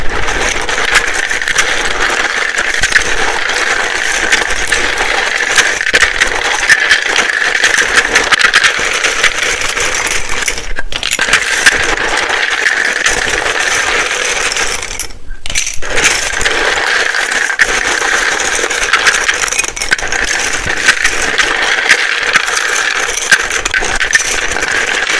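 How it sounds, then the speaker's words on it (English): Tarot cards shuffled loudly and continuously close to the microphone, a dense, fast rattling and riffling clatter lasting the whole stretch with only two brief pauses. "It can be very loud when I shuffle these."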